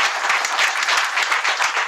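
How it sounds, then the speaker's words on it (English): Sustained applause from a crowd at the close of the Govhack 2013 hackathon event, a dense steady wash of clapping holding at full level throughout. "So can we give a round of applause for the National Govhack National Team?"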